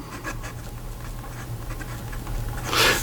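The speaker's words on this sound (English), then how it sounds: "So here we go with the writing sample for the Opus 88" An Opus 88 Picnic fountain pen with a medium steel nib and Colorverse Electron ink writes on paper, a close, faint scratchy rustle that swells slightly at the end.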